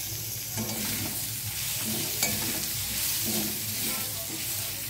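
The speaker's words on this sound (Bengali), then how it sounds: "আদা রসুন হয়ে গেছে, দিচ্ছি টমেটো আর কাঁচা লঙ্কা।" Tomatoes and green chillies frying in a pan with half-browned onion and ginger-garlic paste for an egg posto curry, a steady close sizzle with scraping stirs at intervals throughout.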